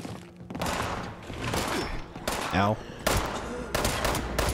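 A 10mm pistol in Fallout 76 fires several separate sharp shots spaced about a second apart, fairly quiet, with a short pained voice cry partway through.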